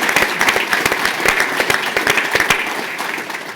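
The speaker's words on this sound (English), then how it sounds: "So I hope we can give him a round of applause." An audience at a charity breakfast event claps in a steady burst of applause with sharp individual hand claps standing out, fairly close and loud before tapering off near the end.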